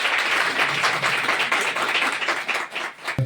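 Audience clapping at a folk arts group's foundation day ceremony, a steady dense patter of many hands filling the room for a few seconds before tapering off at the end.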